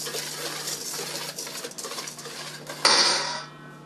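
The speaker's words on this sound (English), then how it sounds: "we're going to slowly whisk this in" Quick metal whisk strokes rattle against a bowl as sugar and kosher salt are beaten into a mixture, a busy scraping patter ending in a sharper clink and fading ring.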